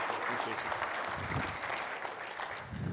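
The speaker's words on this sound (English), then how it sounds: "let's give him one more round of applause" A church congregation applauds a guest speaker, a dense continuous wash of clapping filling the room at steady moderate volume, with a voice speaking over it.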